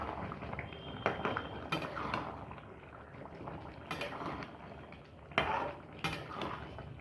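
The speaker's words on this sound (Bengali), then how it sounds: "নেড়ে দিচ্ছি।" Chicken curry with cardamom, cinnamon and garam masala bubbles in a pot while a spoon stirs and knocks against the metal sides, a few sharper clinks over a soft steady simmer.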